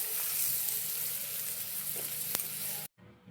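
Capsicum and onion masala sizzling steadily in a pan over a low flame, a continuous close frying hiss that cuts off abruptly near the end.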